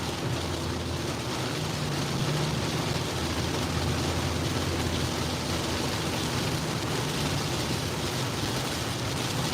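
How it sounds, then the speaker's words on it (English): Moderate rain falls steadily during a severe Kansas storm, a dense, even hiss of drops with a low rumble beneath, constant and close for the whole stretch with no one talking. "it's not really raining that hard right now. I mean, it's kind of like a moderate rain."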